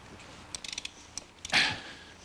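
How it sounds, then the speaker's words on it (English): A wrench ratchets on cylinder head bolts of a LeBaron Turbo, giving a quick run of close, light clicks, then a short creaking metallic grind as a bolt breaks loose, in a quiet garage without speech. "now all we have to do now is take these head bolts off"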